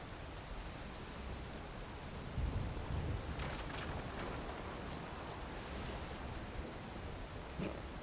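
Stormy weather in Valheim, a steady wash of rain-like hiss with a low thunder-like rumble swelling midway and a few faint crackles, fairly quiet and with no voices.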